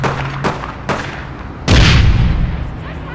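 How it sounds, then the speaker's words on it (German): A grenade blows up in the online shooter APB Reloaded: a couple of sharp gunshot-like cracks, then a loud, close, booming explosion that rumbles and fades over about a second. "Mein nächster Auftrag ist einfach mal eine Granate werfen."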